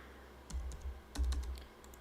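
Quick, soft clicks of typing on a computer keyboard, a short cluster of keystrokes in two bursts, close and quiet in a calm room, with no speech.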